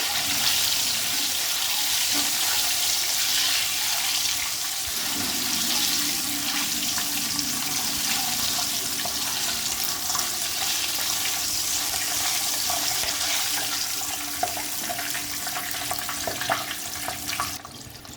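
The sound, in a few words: eggs frying lightly in oil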